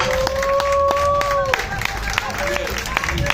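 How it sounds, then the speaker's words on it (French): An audience at a live show at Lézard Ti Show applauds the musical team with scattered, steady clapping under a voice and a sustained musical tone. "Je vais vous demander s'il vous plaît d'applaudir chaleureusement notre équipe musicale"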